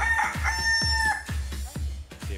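A rooster crows loudly and close, its harmonic call rising and holding before breaking off, set over a steady low rumble with several thumping knocks in the background.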